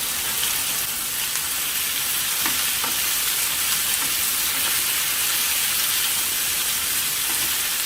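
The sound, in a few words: sautéing vegetables in a pan for beef lasagna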